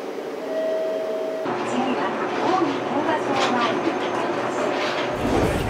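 Ride on a train bound for Haneda Airport, with a steady rumble and rail noise carrying through the carriage for several seconds, faint voices underneath.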